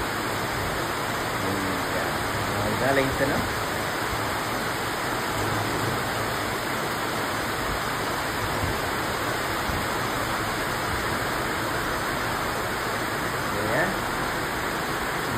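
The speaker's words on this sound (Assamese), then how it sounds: "পুৰা আজি বৰষুণ দি দিলে" Heavy rain pours outside during a windy downpour, making a steady broadband hiss that fills the whole clip while a person speaks briefly over it.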